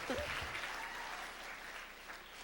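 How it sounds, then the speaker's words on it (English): Audience applause greets a pageant contestant at Miss California USA 1997, a steady wash of clapping from a crowd, with a brief voice near the start. "She gets her own little clap."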